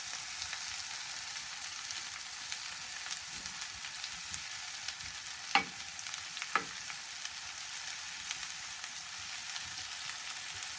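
Onions, garlic and pepper fry in a pan for an Italian frittata, giving a steady close hiss of sizzling that holds even throughout, with two brief sharp clicks partway through.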